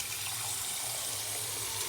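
Tap water runs steadily into a container as it fills with about 8 ounces, a continuous close hiss and splash with no pauses, while a Keurig K Supreme coffee maker runs its descale cycle nearby.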